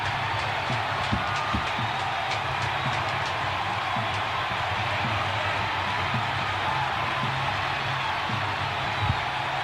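A roaring baseball crowd after the Atlanta Braves clinch NLCS Game 7 against the Pittsburgh Pirates in October 1992, a steady dense stadium roar that stays loud from start to finish, with scattered sharper shouts on top.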